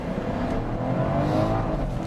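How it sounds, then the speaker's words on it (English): A 2018 BMW 540i M-kit launches hard under launch control, its engine roaring loud and steady with a continuous rising drone of hard acceleration. "Let's just launch it one more time."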